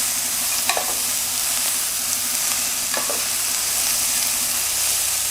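Vegetables with chili stir-fry in a small amount of oil, a loud, even sizzle throughout with two brief spatula clatters against the pan.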